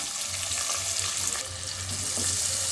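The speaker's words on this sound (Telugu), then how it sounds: "ఇప్పుడు ఆనియన్స్ వేసుకున్నాం కదండి, ఇవి బాగా ఫ్రై అవనివ్వాలి." Onions, green chillies, mustard seeds and cumin frying in hot oil for an Andhra stuffed eggplant dish, a steady close sizzle with a low rhythmic hum underneath and no talk.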